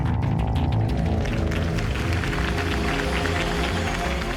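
A crowd applauds and cheers after a campaign speech in a Batman video game, a dense, steady wash of clapping and crowd noise that runs throughout with a tonal music bed underneath.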